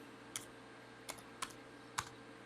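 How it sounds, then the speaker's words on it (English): Four sharp, isolated keystrokes on a computer keyboard while entering a value in Tinkercad, spaced irregularly over a quiet background, close and fairly soft. "I'm going to type in 180"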